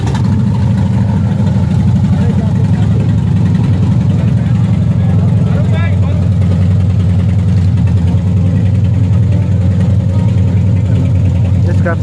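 Loud, steady motorbike engines from Lahore bikers gathered in Haripur rumble close by throughout, with voices talking over the drone.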